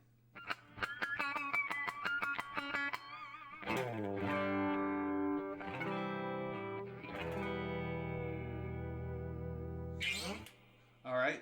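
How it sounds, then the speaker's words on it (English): An electric guitar plays pinch harmonics through a clean channel with compression: quick plucked notes at first, then long ringing squealing tones that sustain and fade, ending in a short burst of noise. "It's a clean channel with some compression."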